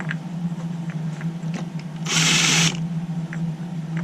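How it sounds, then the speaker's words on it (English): A hand drill spins briefly to clean out a hole in wood while making DIY panel clamps, a short half-second whir over a steady low mechanical hum, with light clicks and taps around it. "Just chuck it up in the hand drill."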